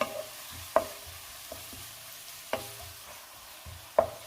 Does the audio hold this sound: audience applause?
no